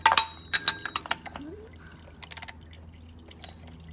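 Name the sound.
engine oil dripping from removed car oil filter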